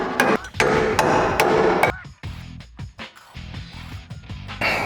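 Sharp metallic hammer taps ring out close by, tapping U-nuts into place while fitting rocker guards on a Jeep JK Wrangler, a quick series of strikes followed by lighter, irregular knocks and clatter.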